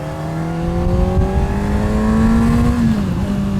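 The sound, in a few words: Honda CBR600RR motorcycle engine revving at high RPM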